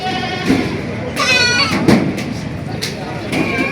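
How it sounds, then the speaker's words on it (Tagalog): Goats at a busy livestock market bleat in several loud, wavering calls, near and repeated, mixed with people talking and general market chatter. "Mga pogi din ng kambing, oh."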